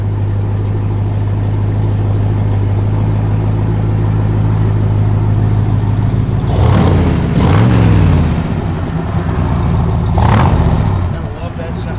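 A 1965 Chevrolet Corvette convertible engine with side exhaust, heard as a steady, throaty idle that rises in a couple of short revs and then settles back, close and loud.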